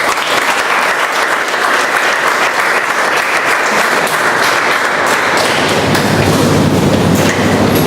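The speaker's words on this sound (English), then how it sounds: "A big round of applause for him." Members at a Toastmasters club meeting in Bombay give a hearty round of applause, loud, dense clapping sustained throughout with a low rumble building underneath toward the end.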